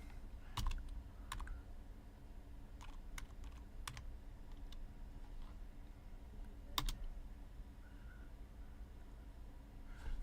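Computer keyboard typing in short bursts, clicky keystrokes clustered into quick runs separated by pauses, close and fairly quiet with no talk.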